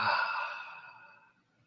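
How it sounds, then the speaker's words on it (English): A single soft breath drawn in through the nose during a calm meditation exercise, close and quiet, fading away over a second or so with no talking. "breathing in through the nose"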